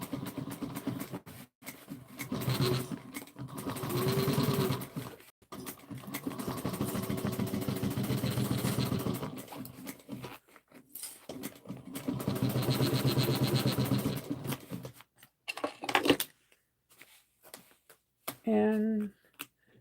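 A sewing machine runs in bursts as fabric feeds under the needle, with short pauses between runs where the material is repositioned; steady, close mechanical whirring fills most of the stretch.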